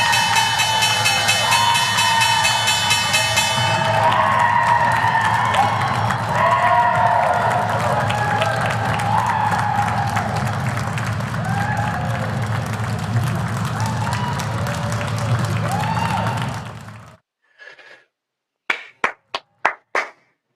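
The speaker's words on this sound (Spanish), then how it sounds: "Así que escuchemos la campana del día de hoy." Stock exchange closing bell session on Wall Street with steady applause and cheering from a trading floor crowd for about seventeen seconds, then a few sharp isolated knocks after it dies away.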